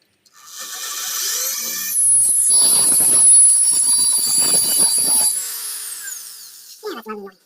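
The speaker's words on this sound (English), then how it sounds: "Pre-drill these holes." A high-pitched power drill whines loudly and steadily for several seconds, rising and settling as it pre-drills holes in a dash plate, then stops with a clatter.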